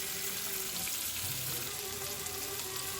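Chopped onions, green chilli and tomato fry in hot oil in a pan, giving a steady, dense crackling sizzle that stays even and close throughout.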